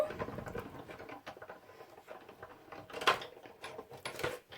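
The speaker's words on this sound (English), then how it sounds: "So once I have that all stacked, I can put that in my machine and give it a quick run through." A die-cutting and embossing machine feeds a card through in a quiet craft room, giving soft rolling clicks, light patter and a brief louder clack. The sound is faint and close, with no talking.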